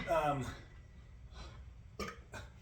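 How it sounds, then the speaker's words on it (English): A short, low burp breaks out near the start, made by someone talking about building strength for pull-ups. A few soft breaths or throat noises follow in a quiet room. "had a little burp"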